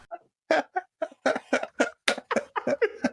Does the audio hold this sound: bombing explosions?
no